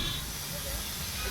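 The Darjeeling steam toy train lets out a steady, continuous hiss of steam, close and even throughout.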